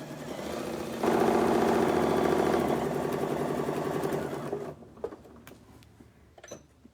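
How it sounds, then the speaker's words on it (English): Sewing machine running a short reinforcement stitch while piecing a Christmas table topper, a steady close whirring stitch rhythm for about four seconds that stops, followed by soft handling clicks. "I'm going to do a reinforcement stitch at the beginning"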